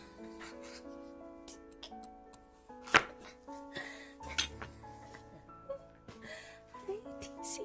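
A knife chops mushrooms on a chopping board in a series of quiet, irregular taps and clicks, with soft sustained tones playing faintly underneath.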